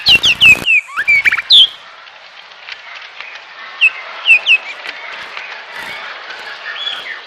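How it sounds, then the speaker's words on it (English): A shama bird sings bright, clear whistled notes in quick bursts, close and loud at first, then softer scattered phrases over a faint hiss of background insects. "the female Shama leaves its nest and begins to sing to the strange male"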